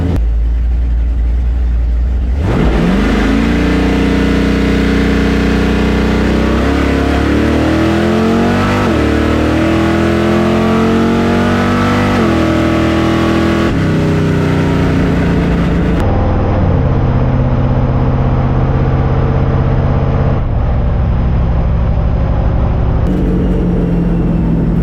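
A Chevrolet Nova drag racing car launches and accelerates hard down the strip, its loud engine roaring and climbing in pitch through repeated gear changes before backing off, close and dominant for the whole run with no talk.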